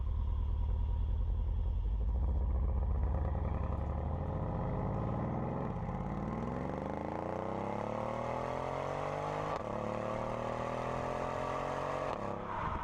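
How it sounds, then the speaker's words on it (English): Mercedes CLS 63 AMG (C218) twin-turbo V8 accelerating hard outdoors, a steady engine roar climbing in pitch with a rising whine over it and a brief break at each upshift. "You can hear that turbo whistle."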